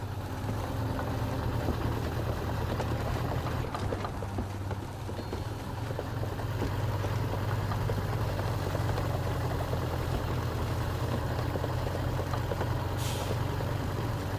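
Steady low drone of a Zikz 566A truck engine running in a driving video game, constant and even throughout with no talk.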